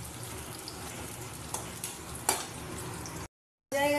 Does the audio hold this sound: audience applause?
no